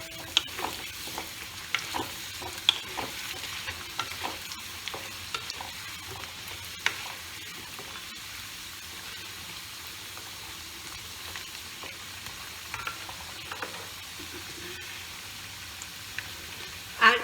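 Potatoes frying in a pan for a pumpkin curry give a soft, steady sizzle, with light clicks of stirring scattered through it. No one speaks.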